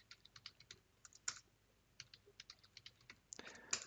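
Password being typed on a computer keyboard while installing Arch Linux: a quiet run of a dozen or so light key clicks at an uneven pace, ending in a firmer, denser flurry of keystrokes.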